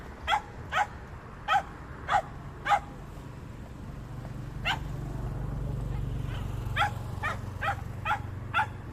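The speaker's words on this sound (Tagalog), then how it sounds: "marami po silang aso" Stray dogs bark in sharp separate yaps, a few spaced early and then a quicker run later, over a low background rumble.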